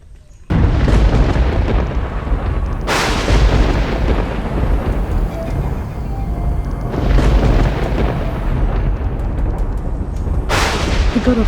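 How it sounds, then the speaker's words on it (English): Deep, sustained rumbling thunder with heavy crashing bursts that swell loud near the start, again mid-way and at the end, continuous broadband roar between them and no voices. "The god of thunder just confirmed it."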